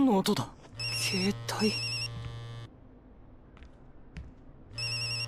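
An old Nokia-style phone ringtone plays inside the horror video game Junji Ito Maniac, a bright repeating electronic melody in short bursts over a low steady hum, with voices speaking around it.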